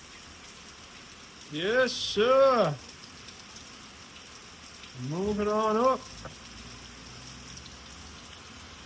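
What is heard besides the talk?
rain falling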